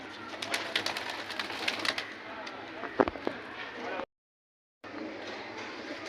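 A male pigeon in a breeder's loft gives soft low coos among other birds, with faint rustling and a brief clatter in the background of the loft.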